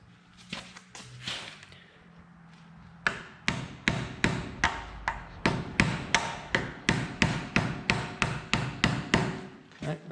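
A hammer drives a rear axle seal into the housing of a Kubota tractor, first in a few scattered blows, then in a long steady run of loud, close metallic strikes at an even rhythm.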